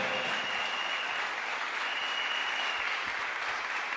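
Sustained audience applause at a church sermon, a dense wash of clapping from a crowd that stays steady and fairly loud for several seconds without speech.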